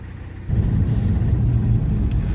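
A car driving along a cold winter highway, with a steady, close low engine and road rumble that swells slightly after the first half second.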